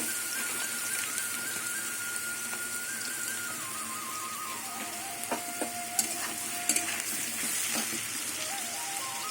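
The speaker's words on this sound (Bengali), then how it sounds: "ভাজতে ভাজতে এবার হলুদ দিয়ে দেবো" Papaya and potato pieces frying in oil in a home kitchen, turmeric going in, with a steady broadband sizzle throughout and a few brief clinks of a spatula near the end.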